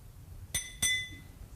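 A glass of water on a lectern clinks twice in clear succession, bright ringing tones that hang briefly before fading, with no talking over them.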